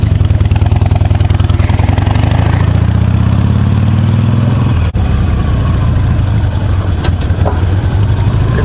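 A motorcycle engine drones steadily while being ridden, loud and close throughout, with a brief dip near the middle; the bike is worn and burning oil, heading for a rebuild, on a rural route in upstate New York.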